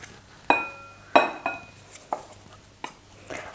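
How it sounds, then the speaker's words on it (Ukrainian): Hard clinks and knocks of a utensil against a bowl as freshly cooked choux dough for Easter bread is transferred, several sharp ringing hits spaced unevenly, close and fairly loud. "Одразу перекладаємо його в миску."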